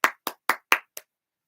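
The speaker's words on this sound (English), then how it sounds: "Clap it up for Rick James." Five sharp hand claps in an even rhythm, close and crisp, with silence after the last one.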